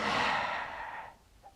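A man imitates the heavy breathing of a huge, domineering ghostly figure, exhaling in a long, loud, breathy rush that fades into a faint softer breath near the end.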